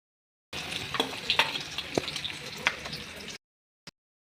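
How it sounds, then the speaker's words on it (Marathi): Chapatis (leftover flatbreads) frying in hot oil in a wok, a steady crisp sizzle with scattered pops and bubbling crackles lasting about three seconds, then a brief faint tap after silence. "असं मी तळून घेणार आहे तेलामध्ये एकदम मस्त खरपूस"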